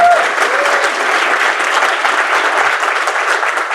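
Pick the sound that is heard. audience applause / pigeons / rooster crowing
audience applause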